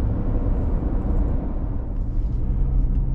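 Steady low road rumble inside a Toyota Highlander driving toward Grand Teton National Park, a constant close engine and tire drone with no talk.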